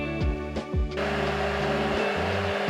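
An electric blender mixing boiled whipping cream with gelatin and milk couverture chocolate into a cream: motor pitch dips and surges in short pulses at first, then runs as a steady, close, loud whirring hum.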